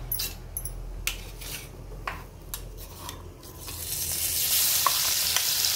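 Masala dropped into hot oil for a bitter gourd dish, a few spoon taps against the pan at first, then a sizzle that swells and holds as a steady close hiss toward the end.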